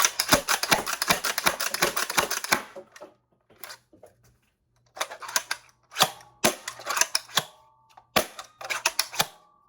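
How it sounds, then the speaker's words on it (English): A 3D-printed Foxbat foam dart pistol slam fires in rapid mechanical clacks, a fast rattling string of shots, a short pause with faint clicks, then several more quick bursts close up. "Slam fire."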